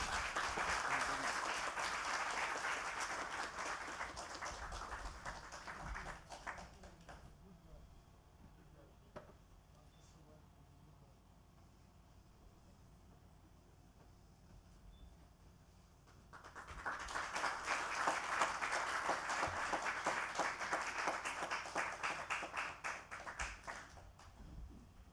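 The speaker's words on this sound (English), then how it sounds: "Please give me a big round of applause." An audience applauds at a medical centre opening in Fiji, a loud burst of sustained clapping that fades into a quieter stretch of scattered taps before a second strong wave of applause swells up.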